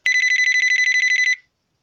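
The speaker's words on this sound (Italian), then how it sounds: "Proviamo questa Clear Digital Ring." A Clear Digital Ring phone ringtone sounds as a rapid run of bright, even electronic trills at steady loudness for about a second and a half before it cuts off cleanly, with no talking.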